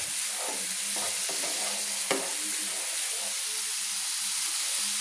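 Masala sautéed in mustard oil with fish and bean seeds dish ingredients makes a steady, even hiss and sizzle with a sharp scrape near the middle, close and constant, no voices.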